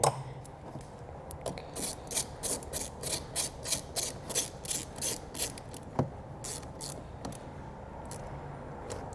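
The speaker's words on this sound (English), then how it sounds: "And then we're just going to simply re-secure our nut." Nut being re-secured onto a stud while a battery charge line kit for a towed vehicle is wired in, heard as a steady run of quick, close ratcheting clicks in rhythmic bursts, with no talking.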